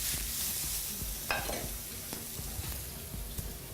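Onions and peppers being stirred in a hot pan with a cooking spoon, a soft continuous sizzle with light scraping strokes and a few clinks against the pan.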